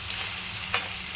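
Bottle gourd sautés in hot groundnut oil with a soft, even sizzle, and a single brief utensil scrape sounds near the end.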